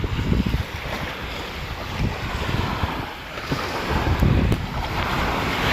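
Waves wash ashore at Salmiya Marina Beach in Kuwait while cool wind gusts across the microphone, a loud, continuous roar of surf and buffeting air with no talking.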